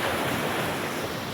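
Steady roar of sea surf breaking at Muttapathi beach, a broad continuous wash of waves mixed with wind buffeting the microphone, loud and close with no voices.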